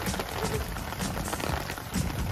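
Rain falls and patters on surfaces outdoors, a faint, steady, uneven splashing texture that continues without pause, with no talking.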